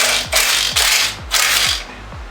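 A ratchet wrench works loose the air cleaner assembly on a 1984 Corvette's cross-fire injection engine, giving a rapid series of loud, close mechanical clicking strokes in a steady rhythm.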